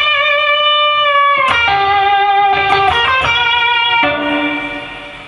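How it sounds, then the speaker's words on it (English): Electric guitar lead lick played through Tube Screamer distortion with the pickup selector all the way down: sustained, singing overdriven notes shifting pitch with bends, loud and close with no talking. "turn on a tube screamer for some distortion,"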